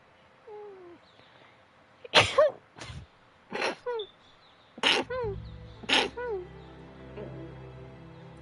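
Several loud sneezes in a row, sharp bursts spaced about a second apart, heard near over faint background game music.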